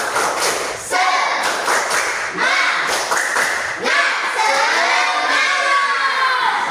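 A class of schoolchildren does a rhythmic spirit clap in an Indonesian classroom, bursts of patterned claps and taps mixed with loud group chanting and shouts, close and energetic.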